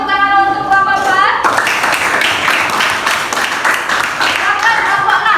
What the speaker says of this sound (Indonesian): sekarang kita boleh kasih tepuk tangan untuk kelompok 4